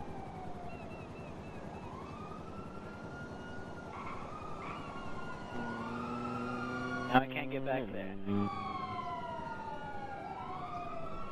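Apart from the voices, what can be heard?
police sirens in a video game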